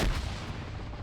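A pineapple grenade goes off in the video game Arma, giving a loud, deep boom at the very start whose rumble then trails off over the following second.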